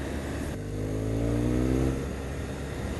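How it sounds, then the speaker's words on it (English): BMW R1200R motorcycle with its stock exhaust accelerating on the road, the engine note climbing in pitch through a strong rev rise for about a second before dropping back to a steady cruising drone. "Ah, nice sound. And this is the stock exhaust, and that's already nice."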